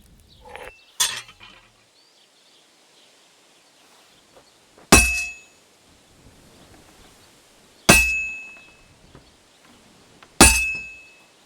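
A hammer rings on heated metal over an anvil in Kingdom Come: Deliverance 2, four bright metallic clangs spaced a few seconds apart, each decaying into quiet in between.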